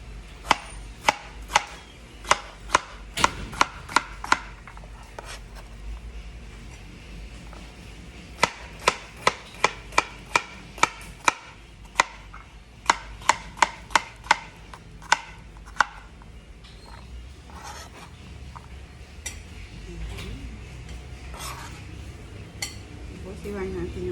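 Knife slicing cucumber on a cutting board for a cucumber salad, rapid bursts of crisp chopping taps in uneven runs close up, with faint kitchen clinks between and a quieter stretch toward the end.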